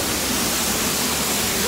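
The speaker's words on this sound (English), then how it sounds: "Inside of a waterfall at Brecon Beacons National Park." Inside a waterfall in Brecon Beacons National Park, Wales, water roars as a dense, loud, unbroken rush from start to finish.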